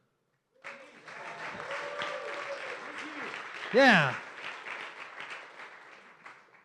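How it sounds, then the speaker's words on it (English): A tech meetup audience gives a short round of applause, steady clapping throughout under a presenter's voice, with a brief louder vocal exclamation midway. "Everybody clap."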